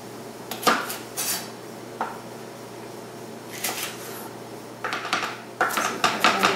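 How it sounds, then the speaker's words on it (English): A knife chops a jalapeno in a home kitchen, with scattered sharp knocks and clinks against a board and dishes coming in irregular bursts, close and fairly loud. "So we're going to chop up this jalapeno."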